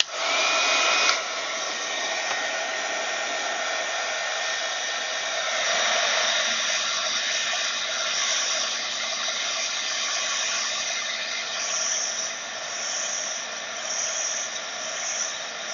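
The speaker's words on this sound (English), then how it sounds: "we're going to take our lovely little heat gun" A small heat gun blows hot air steadily for about sixteen seconds, a loud, continuous whooshing hiss with a slight click at the start, used on a Kraft-Tex journal cover.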